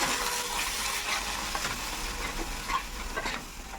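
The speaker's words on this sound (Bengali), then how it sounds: "দই দিয়ে আমি আবার একটু ভালো করে কষিয়ে নেব" Spice masala with whisked yogurt stir-fried in a pan for a duck egg curry, a steady close sizzle with soft scraping and stirring clinks throughout, no voices.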